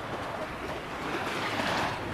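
Soft, continuous wash of sea waves with light wind noise, fairly quiet and distant, at Paracale, Camarines Norte.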